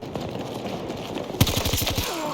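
RM68 rifle firing in Battlefield 2042, a loud burst of rapid shots starting midway and ringing on for about a second over steady background game noise.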